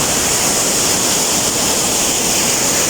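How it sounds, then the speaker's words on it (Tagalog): Gethsemane Hidden Falls in Bayugan City, Agusan del Sur, roars as a steady, loud wash of falling water, a dense unbroken rush close by with no voices. "sa akong likod na ara. Muna siyang gitawag Gitsin Mani Hidden Falls diri sa Bayugan City, sakop sa Agusan del Sur."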